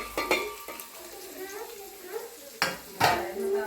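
Chopped onions sizzle in hot tempering oil as a spoon scrapes and clinks against the pan in a home kitchen, with irregular stirring strokes and a couple of louder metallic knocks over a soft frying hiss.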